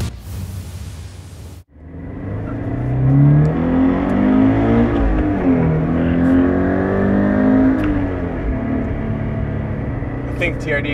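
A 2013 Scion FR-S engine with a TRD intake starts with a short burst, then revs up and down repeatedly with a throaty intake roar, loud and close.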